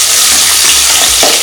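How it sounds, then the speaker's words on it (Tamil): Green chillies sautéing in a pan for prawn Manchurian give a steady, close sizzle with stirring scrapes throughout, and no voices over it. "பச்சை மிளகாய், இது முதல்ல கொஞ்சம் இப்படி வதக்கணும்."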